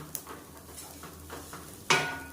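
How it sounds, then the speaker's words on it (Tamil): Betel leaf garlic rice is stirred in a pan, with a few faint, soft scrapes followed by one louder scrape and clatter near the end. "நல்லா கிளறி விட்டுருங்க"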